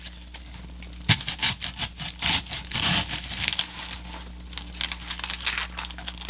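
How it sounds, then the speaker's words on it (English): A yellow onion being peeled by hand, close crinkly rustling and tearing of dry papery skin in irregular bursts, busiest early on and thinning into scattered crackles. "Peel that onion and then chop it up."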